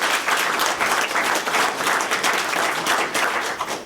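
A crowd applauds steadily, a dense wash of many hands clapping at moderate loudness for a few seconds.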